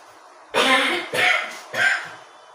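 Three rough coughs in a row, close and fairly loud, each one fading before the next.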